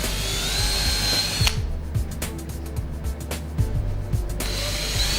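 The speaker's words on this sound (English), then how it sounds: "drill the holes" A power drill drills fixing holes in a wall for telecom base station mounting, whirring steadily in bursts, with a higher-pitched running stretch at the start and end and a lower grinding, ratcheting middle section, close and loud.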